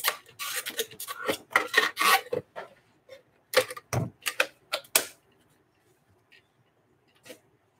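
Cutting the bottom off a bottle makes a close series of dry rasping, scraping strokes in quick irregular bursts, then sparse faint scrapes with pauses.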